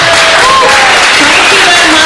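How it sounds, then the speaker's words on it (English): Loud, dense applause from a crowd at a Startup Weekend Sofia prize ceremony, with scattered voices and cheers mixed in, filling the whole moment. "a big applause for Daniel, who is doing the whole package"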